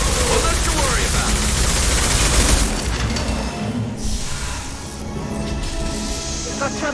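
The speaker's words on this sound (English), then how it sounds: "Firing a high impact shot." Rapid bursts of gunfire and booming impacts from the PC game Mass Effect 2 during a squad firefight, loud and dense for the first few seconds, then thinning into scattered shots and a softer battle din.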